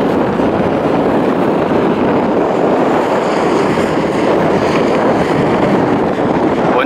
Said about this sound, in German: es ist ein warmer Wind